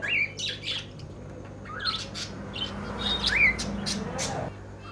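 Finches and doves squawk and chirp in a pet bird shop, a busy overlapping chorus of sharp calls and tweets at close to moderate distance over a steady low background hum.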